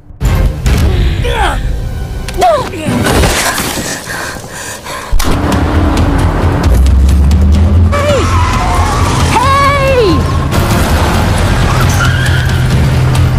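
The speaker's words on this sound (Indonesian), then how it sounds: "langsung tancap gas untuk meninggalkan hutan tersebut" A car in a film scene speeds away from a forest, with a close engine roar and tyre screech alongside gasps, voices and dramatic sound effects.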